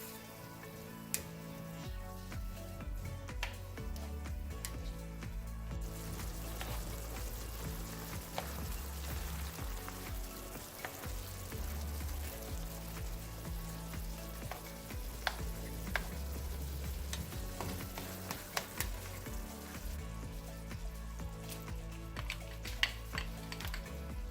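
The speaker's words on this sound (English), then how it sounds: "We're going to mix this well and we're going to cook until the onions are translucent and most of the excess liquid has burned off." Onions sizzle and fry in a pan, with a steady crackle running throughout and occasional louder clicks and scrapes as they are stirred, recorded up close with no one talking.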